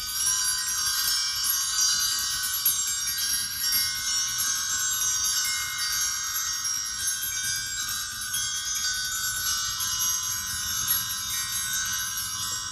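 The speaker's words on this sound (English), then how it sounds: "one bell I have is this one here. I'll ring it for you." A high, shimmering shaman's bell with sixteen musical tones rings continuously with layered bright tones and a soft, steady jingle, close and fairly loud with no talking.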